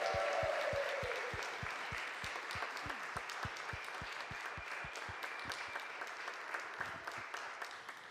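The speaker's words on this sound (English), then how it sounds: "So maybe we should just start with a big old cheer for Brian and Claudia." Church audience at a Central Christian Church benefit concert applauding Brian and Claudia on their nearly 50 years of marriage, a steady roomful of clapping with sharp, evenly spaced handclaps close by that continues throughout.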